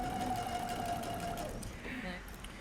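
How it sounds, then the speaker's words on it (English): A sewing machine stitches along a shirt neckline seam, running as a steady, close hum with a sustained tone that eases off partway through. "I want to sew exactly on the same stitch line."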